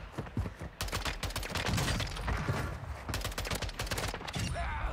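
Rapid bursts of gunfire in Call of Duty Warzone, including a DMR, crack out in quick clustered volleys, loud and close, with a few pauses between strings of shots.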